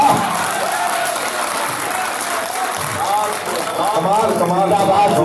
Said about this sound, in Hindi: ये जोरदार ताली, जोरदार ताली